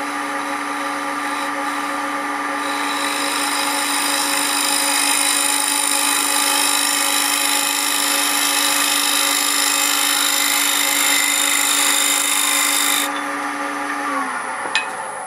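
A woodturning tool cuts side grain on a spinning wooden blank on a lathe, giving a steady, loud whirring hiss with a sustained tonal hum that ends as the cut stops near the end.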